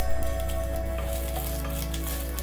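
Cumin seeds and dried coriander sizzle in an iron kadhai for a bathua paratha stuffing, making a steady, close frying hiss over a low constant hum, with no talking.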